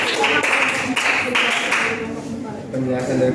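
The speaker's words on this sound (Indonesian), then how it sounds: "Kasih tepuk tangan untuk kelompok 3" A high school class claps for a student group after a presentation, a brief burst of mixed clapping that thins and fades, with speech in the room beneath it.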